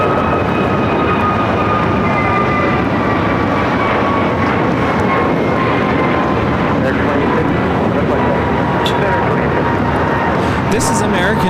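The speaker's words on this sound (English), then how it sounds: "2850 taking off to Philadelphia on the A321neo" An American Airlines Airbus A321neo takes off at LAX for Philadelphia with a loud, continuous jet roar and a slowly falling engine whine, close and steady throughout, and brief clicks near the end.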